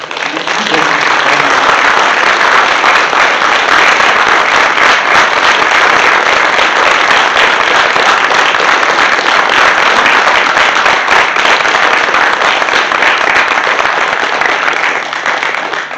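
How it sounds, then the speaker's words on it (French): An audience applauding a guest at a public talk, sustained loud clapping that stays dense and even for the full sixteen seconds before fading slightly at the end. "Et je voudrais qu'on vous applaudisse à la hauteur de ce que vous êtes."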